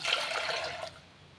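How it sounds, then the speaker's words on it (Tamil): Half a tumbler of water splashes into drained, soaked dal for dal tadka, a brief close pour lasting under a second before fading to quiet, with no talking. "அரை டம்ளர் தண்ணி ஆட் பண்ணிக்கலாம்"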